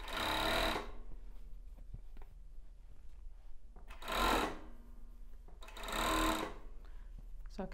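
A sewing machine stitches a plus-size bra cup with raw jaraguá elastic in three short bursts of rapid whirring. Quieter handling sounds fill the pauses between runs.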